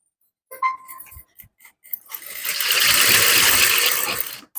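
A sewing machine runs a straight line of stitching on a blouse. A few short clicks and taps come first, then a loud, steady, close whirring burst of about two seconds, with no talking.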